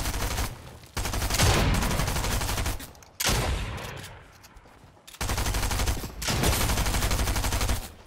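Bursts of rapid SMG fire in the video game Fortnite come in three loud sustained volleys separated by short pauses, with a fading tail between them and no talking.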